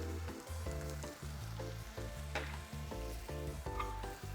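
Vinegar hits sautéed onions and lamb in a hot pan for a fruit lamb stew, producing a soft, steady sizzle with irregular scraping stirs, close by, with no voices.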